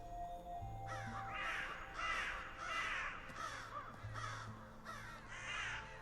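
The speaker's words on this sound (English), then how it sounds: "Damned crows!" A flock of crows in the video game Saint Kotar caws repeatedly, about seven harsh calls in an uneven rhythm, fairly near over a low ambient background.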